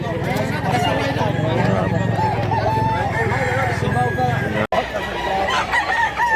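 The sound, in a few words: rooster crowing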